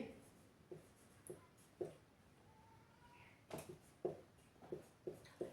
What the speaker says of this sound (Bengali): যে সমীকরণ দেওয়া আছে সেটা একটু লিখি